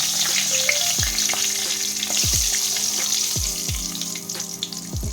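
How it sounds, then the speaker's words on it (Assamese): Asafoetida, dried chili and bay leaf frying in hot oil in a home kitchen, a steady close sizzle and crackle with occasional soft stirring knocks of a utensil against the pan. "এতিয়া মই ইয়াতে তেলত অকণমান হিং দি দিছোঁ জাষ্ট অকণমান একদম আৰু দিম শুকান জলকীয়া আৰু তেজপাত"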